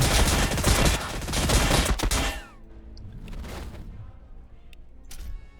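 Basilisk artillery in Warhammer Battlesector fires a rapid barrage of close, loud booming shots that stop abruptly, followed by a quieter tail of scattered distant impacts and one late crack.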